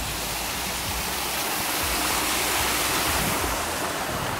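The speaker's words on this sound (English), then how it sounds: "Got a waterfall." A garden waterfall pours down into a fish pond, making a steady, loud, broadband rush of falling water with no break and no voices.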